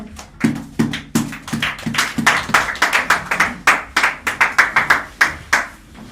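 A church congregation at a sermon claps together in a loud, steady rhythm, sharp hand claps repeating quickly for several seconds with no talking.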